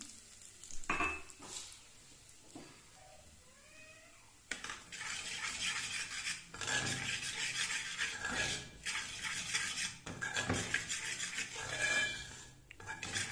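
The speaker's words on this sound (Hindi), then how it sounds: "ये सूजी को इसमें हल्का सा भून लेना है" Semolina roasting in ghee in a pot over low heat: a brief mewing cry early on, then from about four seconds a steady close sizzle with repeated scraping stir strokes and light pot knocks, with no talking.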